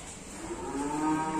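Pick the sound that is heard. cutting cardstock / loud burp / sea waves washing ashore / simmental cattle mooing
simmental cattle mooing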